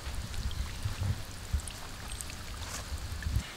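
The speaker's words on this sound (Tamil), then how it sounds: "தென்னமரத்துக்கு தண்ணி வாஞ்சிட்டு இருக்குதுங்க" Irrigation water flows to coconut trees on a farm, a continuous close rushing and gurgling stream with a steady level and small splashy surges, heard alone.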